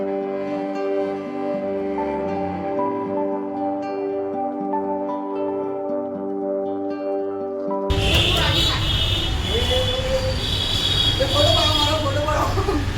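An Ahmedabad metro train ride. Tonal music plays for several seconds, then loud, steady rumbling carriage and wheel noise takes over, with people talking over it.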